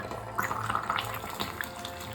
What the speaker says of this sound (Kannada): ಶುಗರ್ ಕ್ಯಾರಮೆಲ್ ಸ್ವಲ್ಪ ತಣ್ಣಗೆ ಆದಮೇಲೆ ಒಂದು ಕಾಲು ಕಪ್ನಷ್ಟು ನೀರು ಹಾಕ್ಕೋಬೇಕು